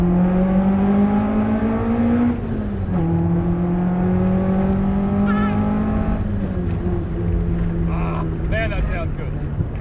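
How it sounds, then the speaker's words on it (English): A Toyota AE86 with a fresh 4AG engine on throttle bodies passes nearby, its engine note rising through the gears with sharp drops at each shift, loud and buzzy, with some talk mixed in. "nice fresh 4AG, obviously on throttle bodies"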